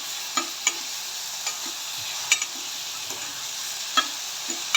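Tomatoes sautéing and being stirred in a pan while making ven pongal, a steady soft sizzle with light spoon scrapes and taps recurring every second or so, close by with no talking.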